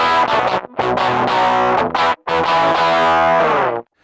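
An electric instrument runs through a 60s-style fuzz distortion with moderate drive and a sharp, bright tone, playing loud, buzzy sustained notes in several phrases separated by short gaps before fading out.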